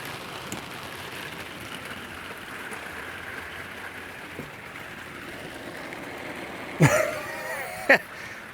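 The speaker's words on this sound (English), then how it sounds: "it's raining really, really hard. Listen to that." Steady rain hisses continuously at moderate level, with a couple of brief louder knocks near the end.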